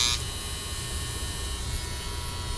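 An Ambition Soldier tattoo pen set to a very short needle stroke gives a steady, close electric buzz with a mains-like hum, unbroken and alone.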